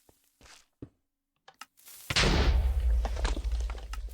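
Bombs set off on a Minecraft server: a few scattered thuds and clicks, then a loud explosion bursts in and a roaring, rumbling blast carries on to the end.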